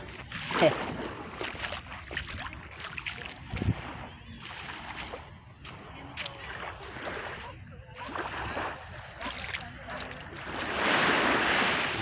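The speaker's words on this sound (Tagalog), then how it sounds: "Yan ang alon sa dalampasigan ng Barceloneta." Waves wash against Barceloneta beach in Barcelona in uneven surges, with breezy wind noise and scattered voices nearby; a louder rush swells near the end.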